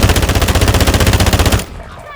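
Rapid automatic AR gunfire in Call of Duty Warzone 2.0, one loud close sustained burst of fast evenly spaced shots lasting about a second and a half, then cutting off abruptly.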